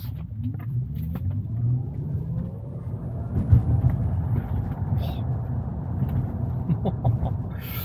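A Tesla Model Y pulls away from a stop, its low rumble and road roar swelling steadily from near inside the cabin, with faint scattered clicks and voices in the background.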